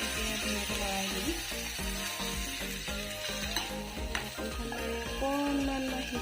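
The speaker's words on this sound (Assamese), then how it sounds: "ফুলকবিখিনি ঢালি দিছোঁ তেলত, এতিয়া ধুনীয়াকৈ লৰাই দিম।" Cauliflower fries in hot oil, a constant close sizzle broken by rhythmic scraping and clinking as it is stirred in the pan.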